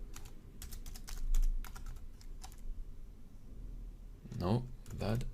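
A password is typed on a computer keyboard in quick, close bursts of crisp key clicks, then the typing pauses and someone speaks briefly near the end.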